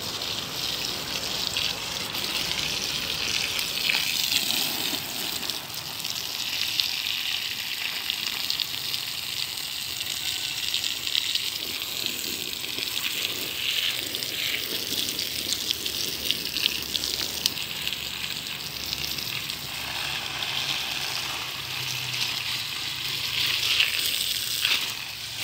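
Steady hiss of water spraying over a backyard vegetable garden, a continuous rushing gush that shifts slightly in intensity throughout, close and without pauses.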